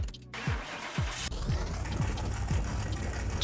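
A simulated Ford GT40 engine in Car Mechanic Simulator 2021 cranks and catches, then settles into a steady, slightly uneven idle with a rhythmic low pulse, fairly close and alone.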